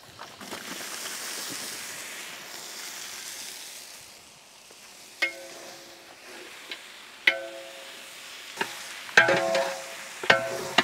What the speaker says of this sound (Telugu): అన్ని మసాలాలు నూనెలో చక్కగా వేగాక దీంట్లోనే మనం ముందుగానే వాష్ చేసి పెట్టుకున్న మటన్ యాడ్